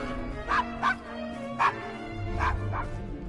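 Desmond the dog in Assassin's Creed Syndicate gives five sharp, close barks in an uneven burst, each short and loud, with a low background rumble underneath.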